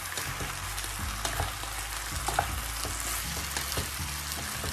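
Rice noodles and vegetables with mushrooms are stirred and tossed in a frying pan, with a steady oil sizzle under repeated scraping and clattering stir strokes, close and continuous, with no talk.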